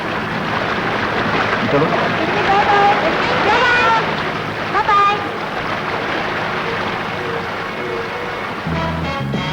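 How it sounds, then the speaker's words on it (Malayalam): A motorboat drones across the water with a constant engine roar and rushing spray, and voices briefly rise over it. "ആ ബോട്ട് സ്പീഡിന് പോകാൻ പോവുകയാണ്"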